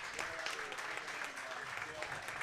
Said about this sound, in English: And here comes the last 2 teams off the ice. That's why you hear the applause.